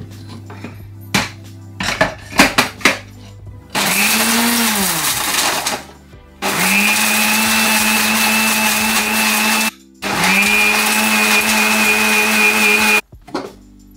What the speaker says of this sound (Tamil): அதில் அரை மூடி தேங்காய் எடுத்து அரைக்கிறதுக்கு போடுறேன். ஃப்ரோசனில் இருக்கிற தேங்காய் ஈஸியாக அரைப்படும்.